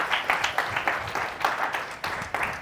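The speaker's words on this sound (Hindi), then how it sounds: "एक बार जोरदार तालियां एप्लॉम के लिए" Audience applause at a health and wellness session, a steady crowd of clapping hands with rhythmic swells, moderately loud and close, with no voices over it.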